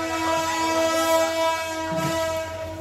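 A train at the main railway station of Chandpur district sounds a long, loud, steady horn over the rumble of rolling wagons nearby.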